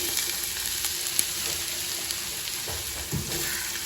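Onions frying in oil in a pan give a steady, close sizzle with crackle and a few soft stirring scrapes throughout, no talking.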